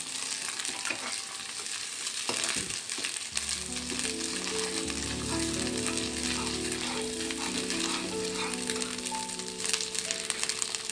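Curry masala frying in a pan for an egg, tomato and pachipappu curry, a continuous close sizzle with occasional stirring scrapes, joined partway by a steady tonal background.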